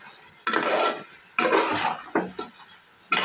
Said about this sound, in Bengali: তারপর মটরশুঁটি এবং গাজর এই পর্যায়ে ঢেলে দিলাম। ঢেলে দিয়ে আমি নাড়তে থাকবো।